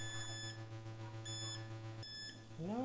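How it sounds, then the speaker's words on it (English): Quadcopter electronics beeping, apparently a low battery warning, with short high repeating electronic tones over a steady low hum, fairly faint and close, and a voice starting at the end. "No idea why that's beeping right now. It probably means low battery, maybe."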